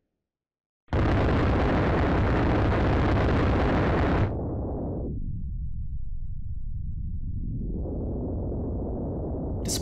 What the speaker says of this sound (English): Despite the wall of cannon fire heading towards the ship, not a single ball makes it through